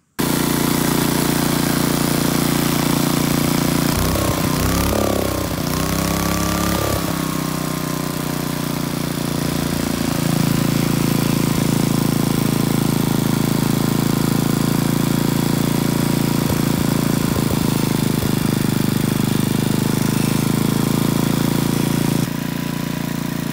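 A Briggs & Stratton 8HP engine on a Troy-Bilt Horse tiller runs steadily after a carburetor rebuild, a loud continuous mid-pitched drone with a brief sputter and change in note early on before settling into an even idle.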